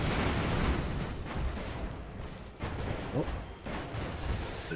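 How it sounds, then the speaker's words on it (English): Deep booming blasts and bursts of gunfire sound in an airship battle in the video game Airships: Conquer the Skies. The explosions come in a dense, rumbling series of irregular hits. "Jeez, the explosions."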